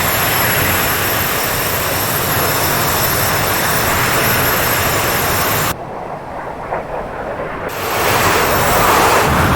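A jet aircraft in flight in Digital Combat Simulator gives a loud, dense, constant roar, dipping briefly into a muffled, duller rumble before the full roar swells back.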